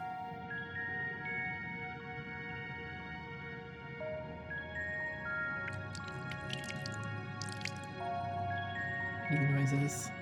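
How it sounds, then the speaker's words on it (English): Water flicked and splashed in a bath scene in the video game Final Fantasy XIV, heard as soft, scattered droplet splashes and squishy drips over a sustained musical background, with a few brighter splashes toward the end. "He just flicks water at me."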